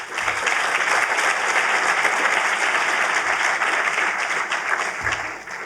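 A large audience at a university ceremony gives sustained, dense applause, steady and fairly loud for several seconds before tapering slightly at the end.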